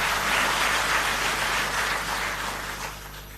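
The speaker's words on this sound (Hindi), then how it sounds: "तो एक बार जोरदार ताली हम दिल्ली जल बोर्ड के सभी अधिकारियों और सभी" An audience claps for Delhi Jal Board officers and workers, with dense, steady applause that is fairly close and slowly fades over about three seconds.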